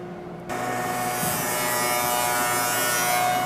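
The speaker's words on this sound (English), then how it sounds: "she's going to cut some tines for us" Locally built machine cutting fork tines, a steady loud buzzing whine that starts abruptly and holds continuously, close up with no talk.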